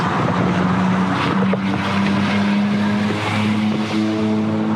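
A 1950s Jaguar XK140 open-top car on the move, its engine giving a steady droning hum with shifting pitch and rushing wind noise, continuous and close, with no talking.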